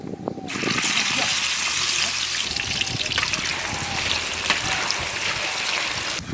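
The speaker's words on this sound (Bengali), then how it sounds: "আলু ভেজে নেব।" Potatoes fry in mustard oil in a wok at a village cookout, a steady loud hiss and crackle running throughout with faint voices in the background.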